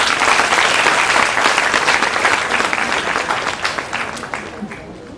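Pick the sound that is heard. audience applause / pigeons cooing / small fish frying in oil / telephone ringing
audience applause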